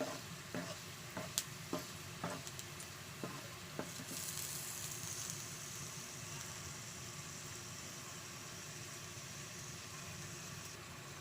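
Garlic sautés in a pan for a smoked fish dish: a soft, steady sizzle throughout, with several light utensil clinks in the first few seconds, fairly quiet and close.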